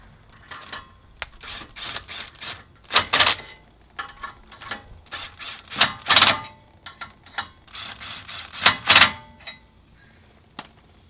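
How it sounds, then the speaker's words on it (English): Lug nuts being driven onto a Subaru WRX hub to seat a Brembo brake rotor: short, sharp mechanical rattling bursts from a power tool, repeated in irregular spurts with quiet gaps, close and fairly loud. "we're going to take some lug nuts and drive them in so we make sure that the rotor is seated well"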